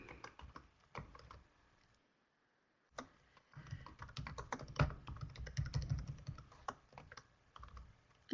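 Typing on a computer keyboard, with bursts of close, crisp key clicks broken by a pause of a few seconds and then a denser, steady run of keystrokes.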